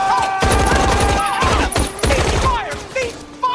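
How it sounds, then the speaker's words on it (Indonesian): Bursts of rapid gunfire from a panicked shooter in a scene from the film The Mummy, loud and close, with dramatic music and voices woven through the shots. "Nick menghentikan Vail yang menembak ke sana kemari karena panik dengan gigitan laba-laba tersebut."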